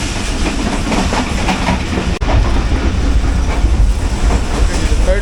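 Inside a coach of the Pakistan Express passenger train between Rawalpindi and Toba Tek Singh, loud continuous clickety-clack of wheels over rail joints with a rumbling, hissing undertone, one brief dropout midway, no talk.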